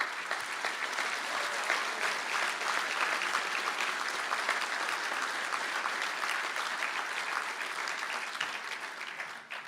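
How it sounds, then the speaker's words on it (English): Sustained applause from a seated crowd at a college conferring ceremony for engineering graduates in Galway, steady and dense throughout before tapering slightly at the end. "stand up for a well-deserved round of applause"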